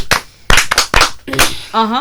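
Several sharp hand claps in an uneven rhythm, close by, with a voice breaking in briefly near the end.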